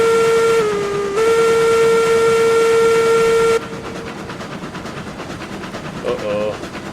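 The steam whistle of a Cook Mogul locomotive in the game RailRoads Online blows a loud, sustained tone for about three seconds with a brief dip partway through, then cuts off, leaving rumbling train noise and faint chuffing.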